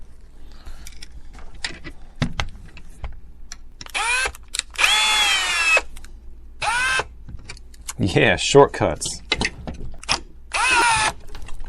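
A power tool tightens nuts while a tricopter drone is rebuilt after a crash, in several sharp, loud whirring bursts of varying length, with someone talking between them.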